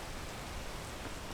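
Steady rain falling in the video game PEAK on a mountain climb, a dense continuous hiss filling the clip with no talk.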